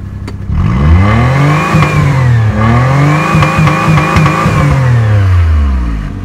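A Maruti 800 car engine is revved with the throttle, its pitch sweeping up and down in several loud, close blips over a steady running drone.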